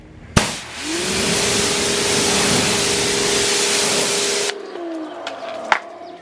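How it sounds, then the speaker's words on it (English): A sprayer hisses loudly and steadily for about four seconds after a sharp click, spraying water onto car paint, then cuts off, followed by a couple of faint knocks. "I'm going to spray some water on it"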